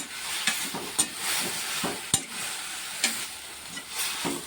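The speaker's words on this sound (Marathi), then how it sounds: "तर हे बघा भाजी छान इकडं कलसून घेते मी मस्त." Fenugreek leaf curry being stirred in a pan, soft scraping strokes at an irregular pace over a quiet, steady sizzle, close and fairly faint with no voices.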